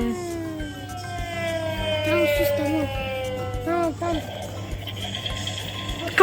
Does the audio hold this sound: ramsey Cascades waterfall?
no